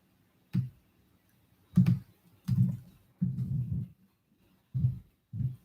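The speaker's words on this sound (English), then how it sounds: "If the typing's a little loud." Computer keyboard typing sounds close and soft, coming in short separate bursts of clicking keys with pauses between them.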